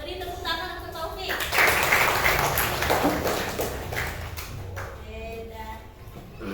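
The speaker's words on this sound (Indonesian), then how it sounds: "Beri tepuk tangan untuk Taufik." Classmates clap for a student in a classroom, a brief scattered round of applause mixed with voices talking in the room.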